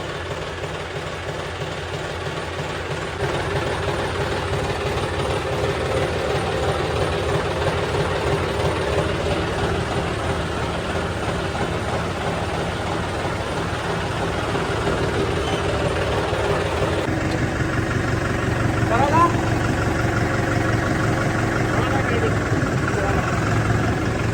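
A farm tractor engine running at a steady, rumbling idle, close and continuous, with people talking over it throughout.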